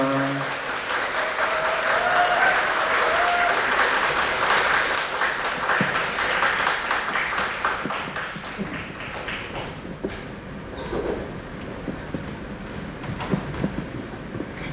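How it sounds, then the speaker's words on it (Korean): Applause from a talk-concert audience welcoming actress Son Sook to the stage, a steady wash of many hands clapping that gradually thins and fades, with some talk over it. "큰 박수로 환영합니다"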